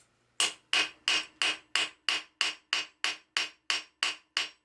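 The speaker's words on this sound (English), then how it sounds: "I'm using a light hammer to start the rivet" A light hammer strikes a rivet at a blacksmith's bench, twelve sharp, ringing metallic blows in a steady even rhythm, each decaying briefly before the next, close and clear with no talking.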